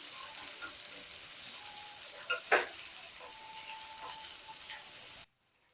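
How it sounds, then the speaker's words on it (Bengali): A large chopped onion sizzles steadily in mustard oil in a pan, a constant loud frying hiss with a brief stir partway through, then it cuts off abruptly. "পেঁয়াজটাকেও একটু লাল করে ভেজে নেব"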